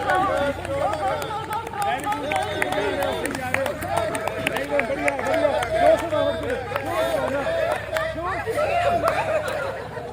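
A crowd at an International Yoga Day celebration held by the Brahma Kumaris makes a continuous, lively babble of overlapping voices, shouts and some laughter, loud and close for the whole stretch.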